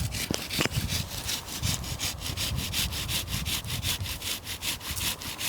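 A hand saw rasps through wild branches on a grafted tree in a fast, steady back-and-forth rhythm, loud and close, with a couple of knocks at the start.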